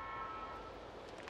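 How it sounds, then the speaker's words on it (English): Train approaching in Life Is Strange, a sustained horn-like tone over a steady rumbling rail noise, loud and continuous for a brief moment. "Here comes the train."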